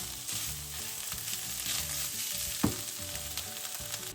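Goan choris sausage filling sizzles in a pan over medium heat, a steady close crackle and spatter with a few brief clinks or stirs, and no voices.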